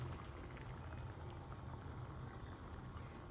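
A kefta tajine with eggs simmering gently, a faint, steady low bubbling with a soft, even hiss and no voices.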